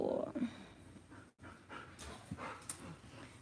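An old Bernese Mountain Dog pants softly indoors, steady quick breaths with a faint whimper, fairly quiet and close, broken by a brief clatter partway through.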